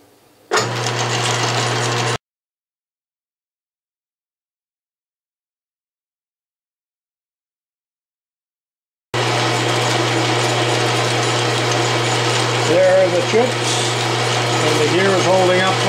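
An Atlas metal lathe fitted with 3D printed gears running a cut, a steady mechanical drone with a strong low hum and gear whine, stopping for several seconds of silence before resuming continuously, close and loud.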